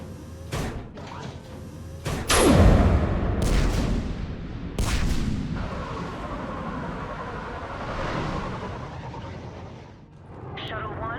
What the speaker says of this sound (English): Have the guns punch a hole in the perimeter